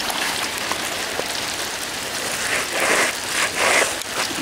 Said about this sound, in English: It's all hail.